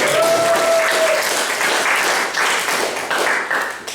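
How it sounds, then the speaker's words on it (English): A live audience gives a round of applause for Jamie from Bolton as he comes up to share a short story, dense steady clapping that swells and carries on for several seconds, with a faint tonal whistle near the start. "So give a round of applause."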